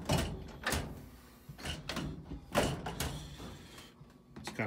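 A Maytag Bravos MCT top-load washing machine is dragged forward across the floor, making a few rough scraping shoves and knocking thumps close by, with pauses between the pulls.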